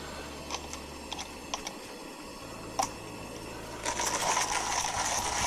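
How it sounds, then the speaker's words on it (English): An electric blade grinder whirs to life on coffee beans after a few light clicks and taps, holding a steady, bright buzzing drone close by. "it's a blade grinder. I used to use this all the time for grinding coffee"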